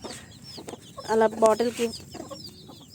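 Chickens cluck close by on a natural organic farm, a short burst of calls rising over quiet background noise, with a person talking briefly.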